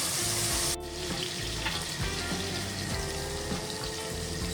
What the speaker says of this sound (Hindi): थोड़ी देर इसको हम भून लेते हैं